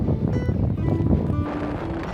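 Strong wind sweeps over the Edge of the World cliffs near Riyadh, Saudi Arabia, where dust is being whipped up, a loud continuous rumbling roar buffeting the microphone in uneven gusts.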